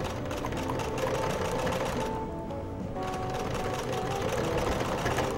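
A sewing machine runs steadily, stitching a fabric Christmas flower toilet-roll holder with a large seam around the piece, with a brief slowdown midway before resuming its continuous whirring rattle.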